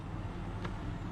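A BM Oplot-T tank engine reversing in War Thunder, a steady low diesel rumble held close and continuous for a brief moment.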